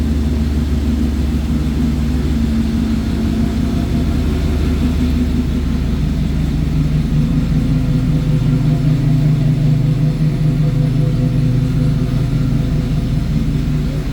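A fuel-injected truck engine idling, a steady low rumble with a constant droning hum, close and loud, holding an even pitch for about fourteen seconds with no talk over it.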